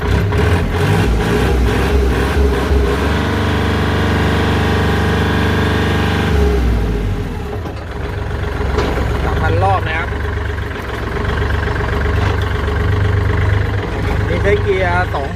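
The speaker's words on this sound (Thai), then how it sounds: "เครื่องยนต์เดินเรียบนะครับตามปกติ" A 2019 Kubota L3218 tractor's diesel engine idles steadily with a low, even rumble, then the tone shifts and someone talks over the continuing engine noise.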